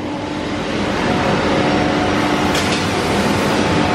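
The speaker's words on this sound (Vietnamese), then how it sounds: "máy CNC sẽ bắt đầu hút chạy cắt ván" A CNC nesting machine cuts wood panels, giving a dense, steady machine roar with a constant high whine and a brief sharper burst near the middle, with no speech.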